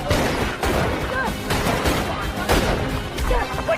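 Rapid bursts of gunfire in a gangster action film, repeated sharp cracks in quick succession, loud and close amid an action-scene mix.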